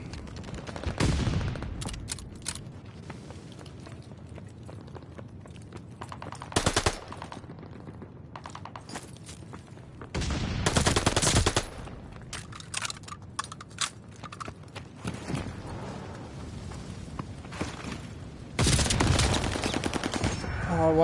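An MP40 submachine gun rattles in Call of Duty: Vanguard in several loud automatic bursts, with quieter keyboard clatter and scattered game noise between them.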